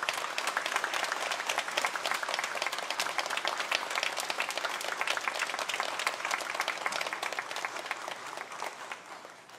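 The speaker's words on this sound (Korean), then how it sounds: "큰 박수로 우리 선교사님 환영하도록 하겠습니다" A church congregation at a Wednesday prayer service applauds to welcome a missionary to the front, sustained dense clapping that fades slightly toward the end.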